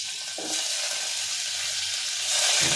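Onion dropped into hot oil sets off a loud, steady sizzle with faint stirring, rising louder near the end, no voices present.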